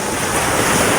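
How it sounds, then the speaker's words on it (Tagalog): Rough sea waves surge and crash in a continuous loud roar, with strong wind buffeting the microphone throughout, as if heard from a small boat out on open water. "Balod ang dagat."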